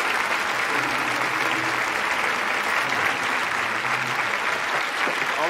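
An audience breaks into sustained, dense applause to welcome a performer onto a stage, the clapping steady and full throughout with no speech over it.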